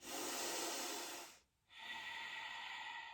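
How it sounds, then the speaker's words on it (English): Deep, noisy Ujjayi breathing in a yoga session: two long, close, hissing breaths separated by a brief quiet gap, steady and loud. "Nice deep noisy breaths."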